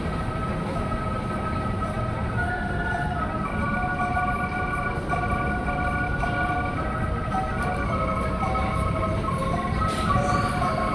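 An 8-car commuter train bound for Manggarai, set JRIS 2549, rumbles steadily at a station platform, a continuous loud rolling drone with faint tonal hums throughout.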